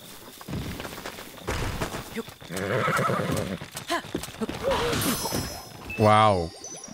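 A horse in The Legend of Zelda: Breath of the Wild clip-clops, then lets out a loud, close whinny near the end, with voices talking in the background.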